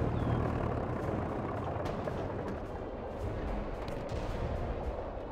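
Gunfire and artillery in a World War RTS game, a dense rumbling battle with scattered sharp shots and heavier booms, fairly faint and continuous with no voices.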